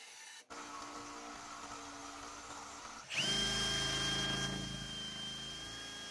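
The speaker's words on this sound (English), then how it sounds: "I pre-drilled 2 holes in the bottom for this thing to attach to the base" Power drill boring pilot holes into wood for a homemade Christmas gift; a steady background hum first, then the motor whirs up sharply to a loud, sustained high whine close by.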